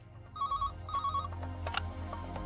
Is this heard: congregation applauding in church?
no